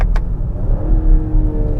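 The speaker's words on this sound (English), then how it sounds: "See, like, look at these downshifts. Look how crispy it is." A 2022 BMW X5 40i is shifted down through its gears with the paddles in manual mode, giving a loud low engine rumble that swells and settles from inside the cabin, with a short click at the start.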